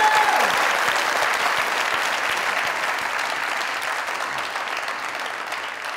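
A studio audience claps loudly and steadily, the dense applause fading slightly toward the end, with a brief tone at the start.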